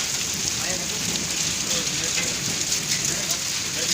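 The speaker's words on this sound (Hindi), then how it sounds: "फिर से बारिश शुरू हो चुकी है हमारे गांव में" Heavy rain falls steadily on surfaces in a village, a dense, even hiss with no pauses, moderately loud and alone.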